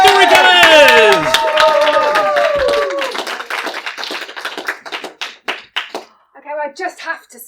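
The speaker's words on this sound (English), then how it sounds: "Can we please give her a big round of applause?" Audience applause for storyteller Xanthe Gresham, loud at first with cheering voices over it, then thinning into scattered individual claps that fade away.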